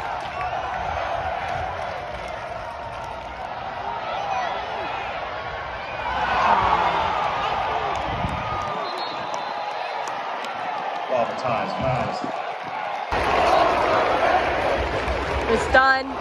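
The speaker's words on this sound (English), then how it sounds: "They're both cheering from both sides." Stadium crowd at a Cincinnati college football game cheering from both sides, a broad continuous roar that swells in waves, with voices talking nearby over it.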